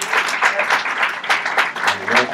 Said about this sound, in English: Let's give another round of applause for the choir.